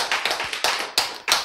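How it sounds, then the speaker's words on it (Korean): A lecture audience claps in response to the speaker's cue. Several sharp, separate claps come close together in an uneven rhythm and are heard alone, with no talking. "이때는 박수 한번 쳐야지"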